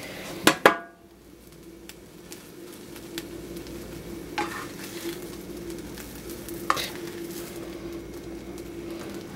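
Mushrooms sizzle quietly in a frying pan beside an omelet, a steady soft hiss that follows a sharp clatter of utensil on pan, with a few light scrapes and taps scattered through.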